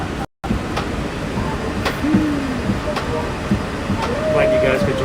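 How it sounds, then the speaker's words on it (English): Disney World monorail train in motion heard from inside the car, a steady rumbling ride with a faint rising whine and light clicks, under intermittent voices. "We are in Monorail Teal."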